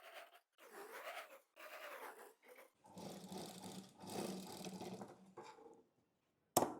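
Domestic sewing machine stitching double-folded butter crepe fabric for a western dress, running in short bursts of whirring with brief pauses between runs, close and fairly quiet, ending with a sharp click.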